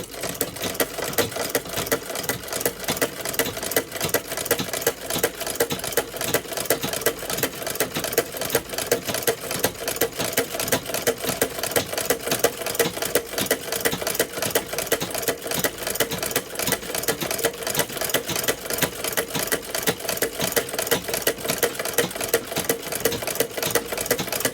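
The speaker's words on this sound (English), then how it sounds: "But this is a foot treadle machine," A foot treadle sewing machine stitches leather with a 140 needle, giving a fast, even, continuous mechanical chatter that stays loud and close for the whole stretch, with no voices.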